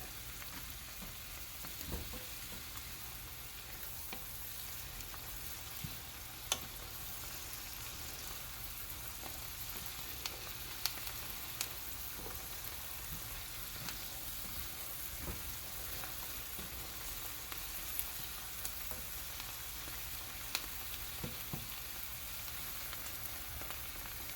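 Chopped onion softens in a pan for ham croquettes, a faint, steady low sizzle running continuously with occasional small pops and ticks, heard alone without voices.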